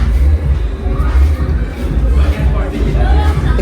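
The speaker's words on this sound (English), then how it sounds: "The crowds are getting much busier and the vibe is getting very excited." Busy crowd at a sail-away party on the deck of the MSC Meraviglia cruise ship, a dense babble of voices with children shouting, close and continuous.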